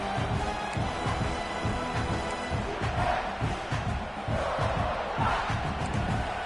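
At a South Carolina versus Purdue college football game, a stadium crowd roars steadily and loudly, a dense, continuous wall of cheering and yelling that holds throughout.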